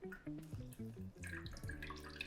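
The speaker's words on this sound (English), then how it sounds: "Then I'm gonna keep adding water, about 1/2 cup at a time." Water is poured in a thin stream onto a bed of coffee grounds for cold brew, a soft continuous trickle and splash at close range, faint but steady.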